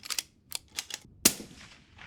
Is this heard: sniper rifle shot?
yes